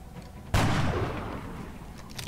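A single sharp video-game gunshot cracks close and loud, followed by a booming tail that slowly fades over a couple of seconds.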